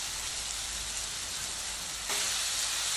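Ginger garlic paste hitting tomatoes frying in a pot for soya vegetable biryani, a steady broad hiss that grows louder and brighter near the end, no one talking.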